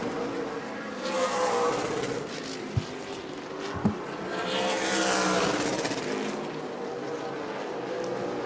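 Super Late Model race cars roar past on the New Smyrna oval, engines swelling loudly as they approach and fading away, with a couple of sharp pops and continuous track noise in the background.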